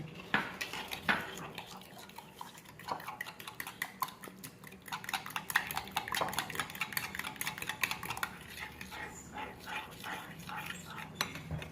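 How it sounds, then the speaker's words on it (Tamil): Sugar and egg are mixed in a bowl for apple pancake batter, with rapid, continuous clinking and scraping of a utensil against the bowl, fairly quiet, and a faint dog bark and brief voices in the background. "இந்த சுகரை எக்கும் நல்லா மிக்ஸ் ஆகட்டும்."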